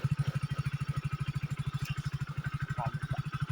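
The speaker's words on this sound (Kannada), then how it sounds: "ಇವಾಗ ನಮ್ಮ ಶಿಷ್ಯಕ್ಕೆ ಬೈಕ್ ಕಲ್ಸೋಣ ಅಂತ ಇದೀನಿ." Motorcycle engine idling with a steady, rapid low throb during a riding lesson, close and fairly quiet, with faint voices in the background.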